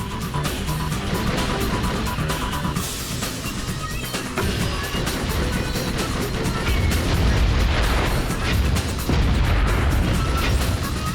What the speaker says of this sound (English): that's damage from an explosion